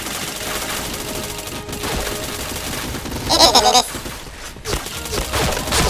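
Rapid bursts of gunfire ring out in a first-person shooter video game, a loud cluster of shots in the middle over steady game noise, while a player talks.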